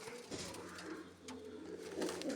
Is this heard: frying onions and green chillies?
no